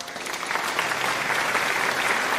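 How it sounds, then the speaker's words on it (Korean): Applause from a forum audience at a political party event, a brief burst of dense, even clapping from many people, loud and continuous for the whole moment. "모든 분들을 위해서 큰 박수를 부탁드립니다."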